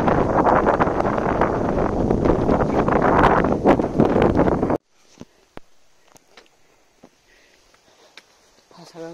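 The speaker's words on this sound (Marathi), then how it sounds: "जबरदस्त हवा." Strong wind roars and buffets the microphone on a forest trek to Ratangad hill fort through a gorge from Samrad village, loud and continuous for about five seconds before cutting abruptly to near-quiet with faint scattered sounds.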